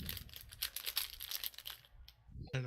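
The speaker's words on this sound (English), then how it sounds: "apparently crinkling wrappers" Wrappers being crinkled during a staff meeting, a run of close, rapid rustling and crackling bursts that fade briefly before a sharp crinkle returns at the end.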